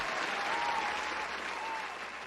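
Applause from a small group at the end-of-year stream, a steady patter of clapping lasting a couple of seconds, fairly faint and fading slightly at the end, with no talk over it.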